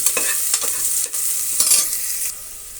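Onions frying with salt for paneer biryani, made in a pressure cooker: a bright, close sizzle with a few stirring scrapes, steady and fairly loud before easing slightly toward the end.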